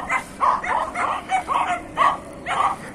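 Several dogs bark angrily at a fishing ground in Binakayan, a run of close, loud, repeated barks in quick bursts with brief gaps between them.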